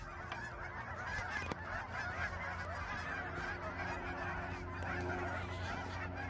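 A large mixed flock of cackling geese and Canada geese honks continuously at a wetland park in Longmont, Colorado, a dense, loud chorus of overlapping calls with no break.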